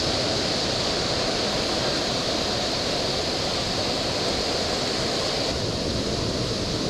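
A waterfall in a canyon in Yilan, Taiwan, pours in a steady, dense roar of rushing water that stays constant and fills the whole scene without any voices.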